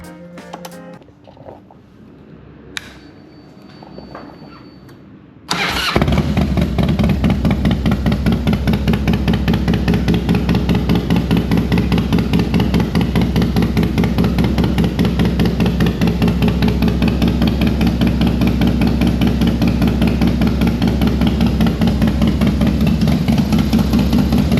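A motorcycle engine with a 2-into-1 smoke muffler exhaust starts up and then runs steadily at idle, giving a loud, deep, even burble close to the listener.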